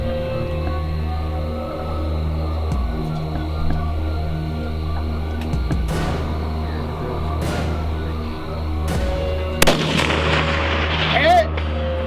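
Rifle shots fired at a target during an international sniper contest on an outdoor range, heard as a few sharp reports spread across the stretch over a steady low background hum, with one louder crack near the end.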